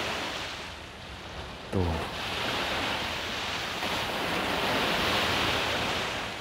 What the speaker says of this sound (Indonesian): boleh dibilang untuk ombaknya sih masih tinggi